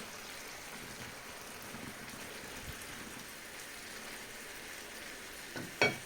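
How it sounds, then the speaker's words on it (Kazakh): Minced meat and onion frying in a pan, a soft, steady sizzle throughout, with a brief clatter near the end. "жаңағы тураған пиязымызды салып, оны да бірге қуырып аламыз"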